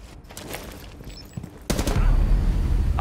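Gunfire in Rainbow Six Siege: a quiet stretch with faint clicks and a brief sound, then a sudden loud, sustained burst of shots and rumble filling the last second and a half.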